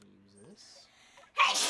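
A single loud, close sneeze bursts out at the end, following a few quiet spoken words.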